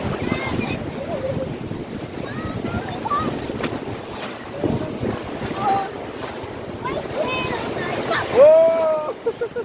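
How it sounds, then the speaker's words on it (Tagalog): Strong ocean waves off Boracay wash and surge continuously under steady wind noise on the microphone, with a louder swell near the end and voices heard faintly in the background. "Lakas ng alon, men!"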